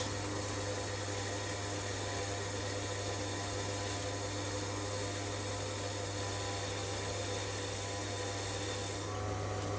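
Steady grinding hum of a mini lathe cutting steel, a constant low drone with scraping texture throughout, no voices.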